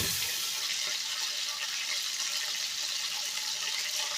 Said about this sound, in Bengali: এই মাছটা এবার আমি ভেজে নেব